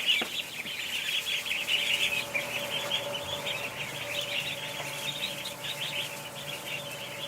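Ducks in a clean barn bedded with fresh straw give a steady, busy stream of chattering calls and chirps, fairly close and continuous, with no talk.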